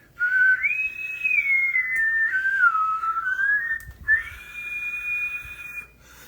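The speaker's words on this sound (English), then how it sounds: "And I always whistled like that." A person whistles a clear, sustained melody alone, with gliding pitch and a brief pause midway before a long held note.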